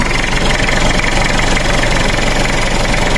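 A second-generation Mitsubishi Pajero 4x4 with a 4M40 diesel engine runs after a starter and solenoid replacement, a loud, steady, close idling rumble with constant knocking vibration throughout, no voices over it.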